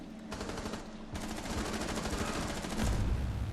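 Rapid bursts of automatic gunfire from the video game Rainbow Six Siege rattle continuously, loud and dense, with several overlapping weapons firing in quick succession.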